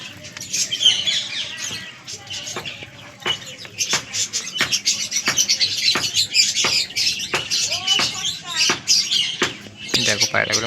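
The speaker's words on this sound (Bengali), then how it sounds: "দেখো মনে হচ্ছে ওদের ছাদে নামবে পায়রাগুলো" Pigeons call in short coos and chirps while wings flap in sharp bursts as they fly above a house roof, a brown one leading three others; the sounds repeat through the clip alongside voices talking.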